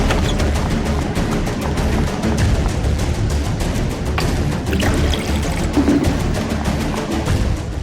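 Water poured out in a steady, splashing stream that runs continuously for about eight seconds, loud and close, with no talking.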